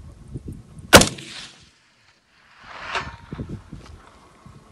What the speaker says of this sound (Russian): из 10 выстрелов попал 8 раз